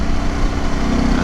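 A Harley-Davidson Pan America motorcycle engine held at about 3,800 RPM gives a loud, steady, even drone with no change in pitch across the short stretch.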